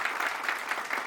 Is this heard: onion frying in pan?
no